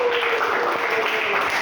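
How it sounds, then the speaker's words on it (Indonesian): A crowd claps together in a dense, steady patter of applause, continuous and even throughout the short stretch. "Beri tepuk tangan yang berada di depan juga."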